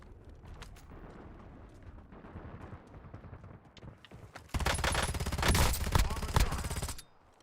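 Video-game gunfire from a pair of guns: scattered shots at first, then a dense, loud burst of continuous automatic fire for about two and a half seconds before cutting off.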